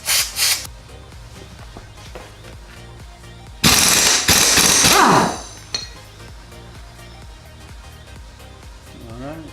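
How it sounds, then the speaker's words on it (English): A pneumatic air tool works on a Subaru WRX rear differential plug, with a short rattling burst near the start and a louder sustained impact buzz in the middle, amid clinks and handling noises. "Power air tools make this way easier."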